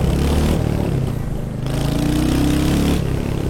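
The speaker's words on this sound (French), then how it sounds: "Le moteur a un super bruit d'origine, hein." A Royal Enfield Hunter 350 motorcycle engine with stock exhaust runs loud and close, its pitch rising and falling through a few revs over a steady throaty rumble.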